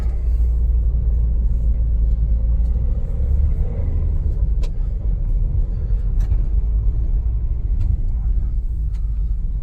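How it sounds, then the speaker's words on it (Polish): Steady low rumble of a Toyota RAV4 2.0 petrol 4x4 on a short test drive, continuous road and engine drone from inside the cabin with occasional faint clicks, no talk. "Taka mała mini jazda próbna"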